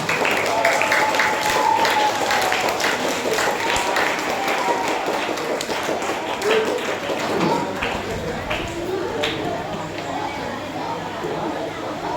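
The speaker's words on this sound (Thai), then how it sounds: "ปรบมือดังๆ" Students applauding loudly at a school ethics training event, a dense, continuous wash of clapping that stays steady throughout, with talk underneath.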